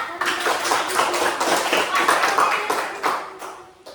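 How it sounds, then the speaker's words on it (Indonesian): Children in an elementary classroom clap for a classmate after a group presentation, a dense patter of small hands lasting several seconds, close and fairly loud, with some voices mixed in. "Ya, tepuk tangan untuk temannya"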